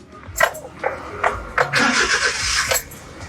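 A mini van engine cranks and starts, with a few short bursts before it catches and runs steadily for a moment, close by, with faint voices in the background.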